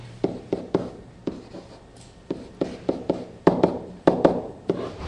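Marker or chalk on a classroom board as someone writes out an equation, a series of sharp taps and short scratchy strokes in an irregular rhythm, close and clear.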